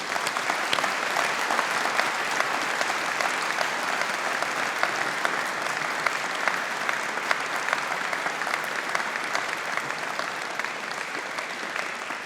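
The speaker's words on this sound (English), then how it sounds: "congratulating our graduates of 2022 on their collective achievements and success with a round of applause from all of" Sustained, even applause from a large audience at a 2022 business school graduation ceremony, a thick roar of clapping that holds steady and close for over twelve seconds.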